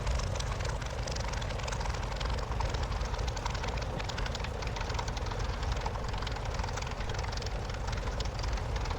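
A Curtiss P-40F Warhawk taxis in a flight simulator game, its propeller engine droning loud, steady and unbroken throughout.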